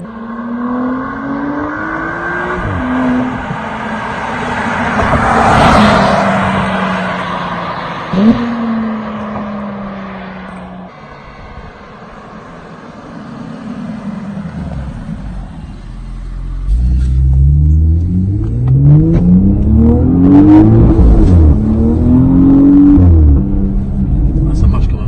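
A 2018 Porsche Panamera hybrid accelerating hard, its engine rising in pitch through several gear changes with a deep rumble, close and loud, while people talk over it.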